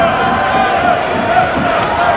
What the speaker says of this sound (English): And again, you can hear the crowd.